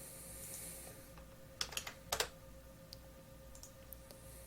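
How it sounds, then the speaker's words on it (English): Typing on a computer keyboard: a short cluster of quick key clicks near the middle, then a few scattered taps, over a quiet room hum. "I typed that wrong."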